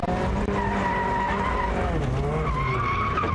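A car drifts through a pair of turns with tires skidding in a long, loud, wavering squeal, while the engine's pitched drone rises and falls beneath it and sits close to the microphone throughout.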